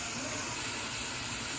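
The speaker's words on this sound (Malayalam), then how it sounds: "നമുക്കിന്ന് നമ്മുടെ കുക്കറിൻ്റെ വിസിലിന് വേണ്ടി വെയിറ്റ് ചെയ്യാം" A pressure cooker on a stove, with pork cooking inside, releases a steady, loud hiss of steam that holds evenly for the whole moment. No voices are heard.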